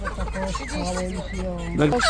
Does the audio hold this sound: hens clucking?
yes